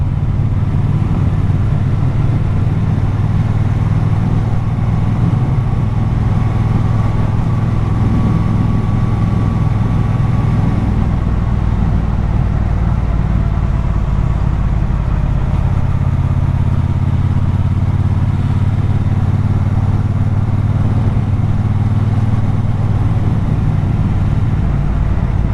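A Triumph Speedmaster motorcycle engine drones steadily while riding, a constant low rumble with wind noise and shifting pitch as the bike moves along.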